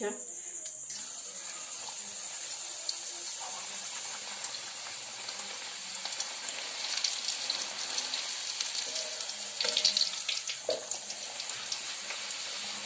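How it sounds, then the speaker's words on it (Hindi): Puri frying in hot oil, a faint steady sizzle and bubbling with a few louder crackles. "देखो तेल गरम हो गला न पूरी के छानी नौ"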